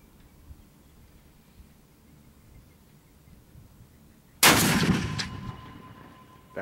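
A single booming shot from a Barrett M82A1 CQ .50 caliber rifle at an outdoor range with steel plate targets, sharp and very loud after quiet ambience, followed by a long ringing decay.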